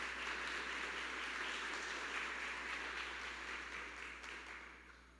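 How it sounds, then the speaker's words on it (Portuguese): A congregation applauds during a Portuguese-language church service, a faint, distant wash of clapping with a low steady hum beneath, holding even before gradually thinning out near the end. "aplaude mais uma vez ao Senhor."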